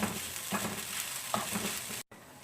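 Spicy vegetable pasta with oregano stirred in a hot pan, a constant soft sizzle with a few spatula scrapes, ending in a brief cut of silence.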